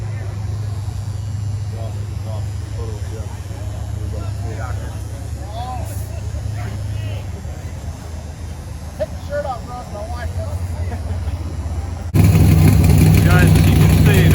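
Hot rod drag race cars idling at a dragstrip while lining up, a steady low engine burble under talking, getting louder near the end.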